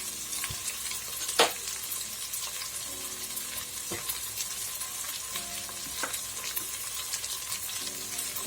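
Prawn masala for biryani fries in a pan, a constant close sizzle broken by sharp stirring scrapes and clinks of a spoon against the metal, with no voices.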